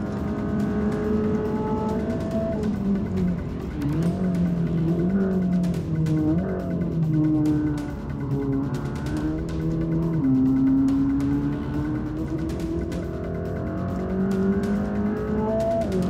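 A modified Mercedes-AMG GT Black Series runs a fast lap, its engine note rising and falling through gear changes and revs, loud and continuous with hints of tire noise.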